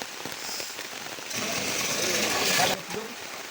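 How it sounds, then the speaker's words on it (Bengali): Heavy rain pours over a village house beside a pond, a dense, steady patter that swells louder midway, with a voice talking over it. "এই যে এদিকে কিন্তু প্রচুর পরিমাণে বৃষ্টি হইতেছে"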